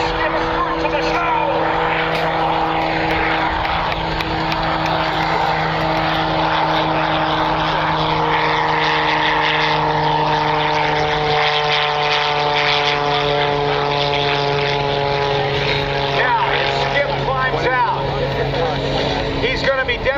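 Skip Stewart's propeller airplane flies aerobatics at the 2024 Columbus Air Show, its engine a loud, continuous, close drone whose pitch slowly rises and falls across the whole stretch.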